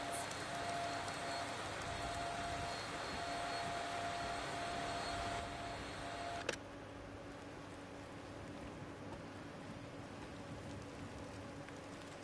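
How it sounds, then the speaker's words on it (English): A Hoover vacuum cleaner runs in the video game Dreams, a steady broadband whine that is loud and continuous, dropping slightly in level about halfway through after a sharp click. "I can't hear you. The Hoover is too loud."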